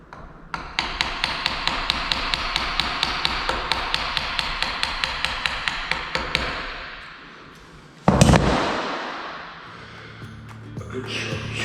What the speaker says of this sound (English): A good sharp chisel helps.